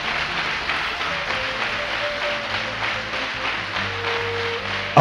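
Worshippers at a Sunday church service keep up a continuous round of clapping, a steady moderately loud patter over soft sustained keyboard tones, swelling briefly at the very end.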